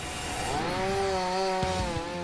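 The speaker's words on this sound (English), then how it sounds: "The chainsaw uses a 35cm cutting chain that rides on gear-like teeth." Giant chainsaw with a 35 cm cutting chain riding on gear-like teeth, a steady loud whining drone held throughout with a rising pitch and a brief low knock near the end.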